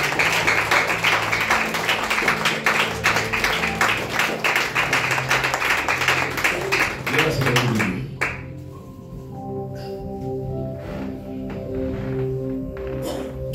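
A church congregation claps loudly in steady rapid rhythm, dense applause filling the room for about eight seconds before fading into quieter murmur and organ-like tones.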